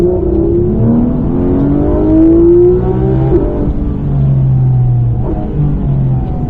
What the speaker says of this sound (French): allez on accélère